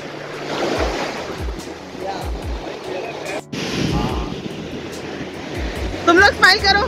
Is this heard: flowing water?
yes